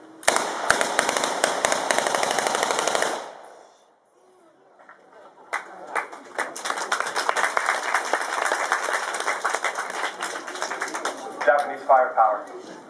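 Light machine gun fired in a WWII re-enactment demonstration, a dense loud stream of rapid shots outdoors that stops briefly and then resumes in longer bursts amid crowd noise.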